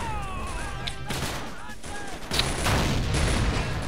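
Infantry rifle fire crackles in a Faces of War battle, a dense continuous fusillade of overlapping shots with a heavier burst near the end, loud and busy throughout.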